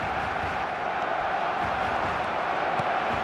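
Stadium crowd in the eFootball 2026 football video game, a loud continuous roar of many voices with a broad, steady wash of noise and no breaks.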